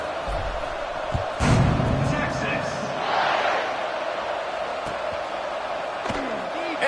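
A stadium crowd in the NCAA 26 college football video game keeps up a continuous buzzing roar, rising briefly at moments, beneath a commentator talking.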